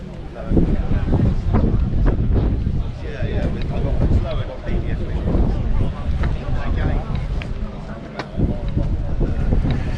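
Strong outdoor wind buffets the microphone at a classic Ford car rally, a heavy, rumbling roar that surges and drops throughout, with a voice partly buried beneath it.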